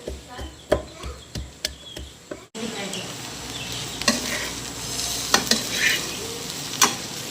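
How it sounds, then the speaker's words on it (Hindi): Okra (bhindi) frying and sizzling in a pan, a steady crackling sizzle with sharp clicks of stirring and pounding near the start, loud and close with no voice. "साथ साथ अदरक लहसुन भी कूट लेती हूँ जब तक हमारी भिंडियाँ फ्राई होती हैं।"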